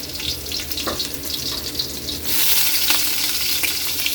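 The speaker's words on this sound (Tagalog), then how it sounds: "Ilagay na natin yung bawang. Lagay na rin natin Kaylee yung sibuyas." Garlic and onion hit hot oil in a pork menudo pan, a steady sizzle that grows louder and denser about halfway through, with scattered crackles and stirring scrapes.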